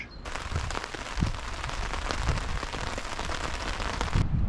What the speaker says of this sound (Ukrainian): Сьогодні трошки дощик падає.